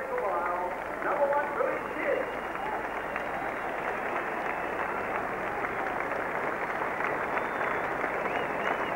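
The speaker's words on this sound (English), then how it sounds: "the crowd applauds the winner of the 20th Miracle Mile" Racecourse crowd at the 1986 Miracle Mile harness race applauds the winner, a distant, steady wash of clapping heard faintly beneath a commentator's voice.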